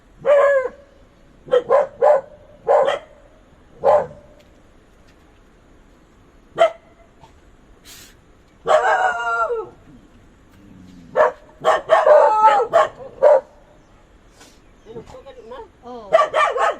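Dogs bark in short bursts, several sharp yips and barks spread across the clip, fairly close, with quiet gaps between them.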